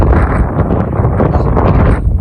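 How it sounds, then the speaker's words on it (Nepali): Strong wind in Upper Mustang, Nepal, buffets the microphone in a constant, loud rumbling gust with no pauses. "हावा चलिरहेको छ"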